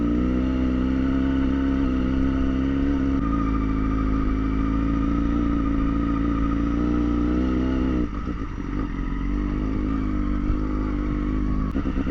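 Motorcycles on a grass track during a tour around Lithuania give a loud, close, steady engine drone that runs without a break, with the tone shifting briefly partway through. No one speaks.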